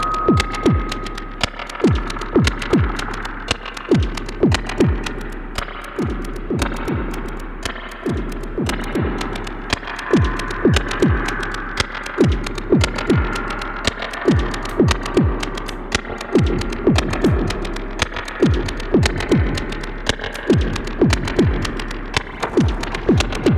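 A stereo spring reverb unit, the Wellspring, being played by hand: a dense run of sharp struck and plucked hits, each leaving a smeared metallic tail over a throbbing, humming wash, with no talking.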